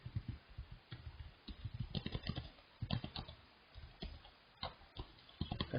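Someone types on a computer keyboard close by, with quiet irregular bursts of clicky keystrokes and short pauses between runs of keys.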